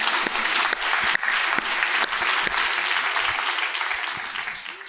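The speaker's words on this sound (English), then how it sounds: "This deserves a clap." An audience at a low-carb medical lecture bursts into applause, a full, even round of clapping with a few sharper individual claps standing out, gradually tapering off toward the end.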